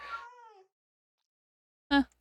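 Two cat meows from Minecraft: a long, falling, plaintive mew, then a pause of silence and a short, sharper meow, both clear and close with no speech.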